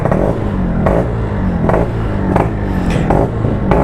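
Yamaha RX King motorcycle engine, a Y1-built two-stroke, revving close by with repeated sharp throttle blips rising over a steady idle, about five bursts in under four seconds.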